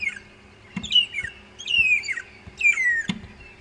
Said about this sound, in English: a family of long-tailed shrikes that are really singing out their chorus